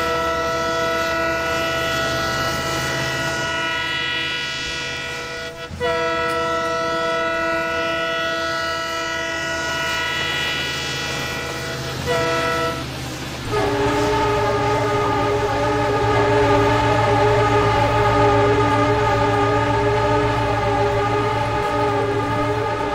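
Shramjeevi Express 12392 crossing the Garhmukteshwar bridge, a loud continuous rumble of rolling coaches with sustained horn-like tonal blasts, growing heavier partway through as the wagons clatter past close by.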